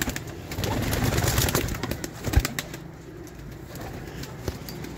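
Pigeons cooing close by, soft throaty calls over a steady ambient hiss, with a few faint flutters and knocks and no talking.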